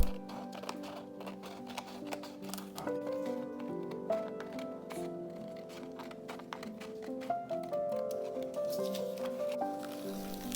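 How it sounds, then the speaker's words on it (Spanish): Scissors snip through paper lampshade panels made from toilet paper, giving a series of close, light crisp cuts and rustles that repeat irregularly at low level, with no talk over them. "¿Escucháis el ruido al recortar las pantallas?"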